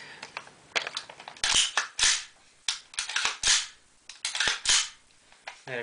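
An AR-15 rifle's action is cycled and dry fired during a function check, giving a series of sharp, close metallic clacks and snaps in uneven bursts.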